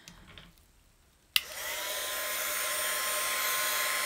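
A heat gun switches on abruptly over an acrylic pour painting and blows a steady, loud, even airy whir, after a few faint rustles in a quiet room.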